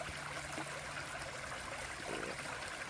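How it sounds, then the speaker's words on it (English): A stream runs across a hiking path on the Appalachian Trail, giving a steady, soft rush and trickle of flowing water that stays quiet and even, with no voices. "Water crossing."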